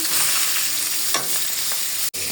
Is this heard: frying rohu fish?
yes